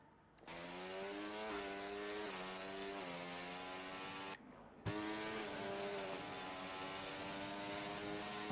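McLaren race car engine in a racing video game, a steady sustained whine with rising gear pulls, a brief dip near the middle as a shift cuts in, then loud and continuous again, with no voices.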